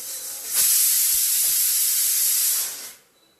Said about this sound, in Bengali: এদিকে ভাতের খিচুড়ির জন্য জলটা বসিয়ে দিয়েছি, জলটা গরম হচ্ছে।